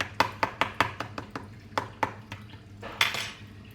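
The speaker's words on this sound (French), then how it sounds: "Avec une fourchette, je viens piquer le bas de la pâte." A fork pricks the base of pastry dough in a tart tin, a close series of about a dozen sharp metallic taps in quick irregular rhythm, with a louder scrape near the end.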